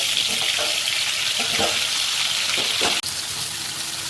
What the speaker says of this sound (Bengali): আলুগুলো ভালো করে ফ্রাই করে নিচ্ছি